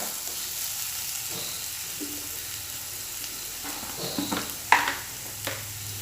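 Onions sauté in a pan for an egg fry, giving a continuous close sizzle with occasional clinks and scrapes of stirring toward the end, no voices.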